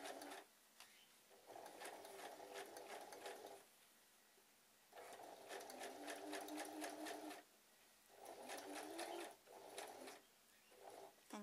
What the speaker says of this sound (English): at the moment, I'm just sewing, as I say, pulling it slightly tight as I go